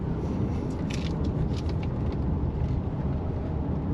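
A 2023 Hyundai Santa Fe Hybrid SUV drives along a 60 mph road, a steady low rumble of road and tyre noise with faint higher whooshes passing over it.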